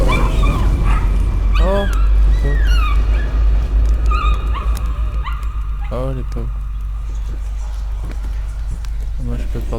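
Dogs whimper and yip in the horror video game Layers of Fear, a series of thin, rising and falling whines and short yelps over a low droning hum, while a person talks over them.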